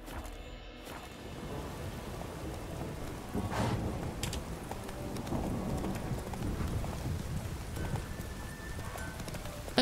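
In The Witcher 3, a horse's hooves clip-clop at a steady trot over a soft game soundscape that sounds like light rain and distant rumbles, with no voices.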